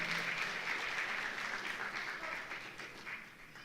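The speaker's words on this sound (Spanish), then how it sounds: "Dale un aplauso al muchachito" A church congregation applauds a young boy, a steady wash of many hands clapping at a moderate distance that slowly fades toward the end.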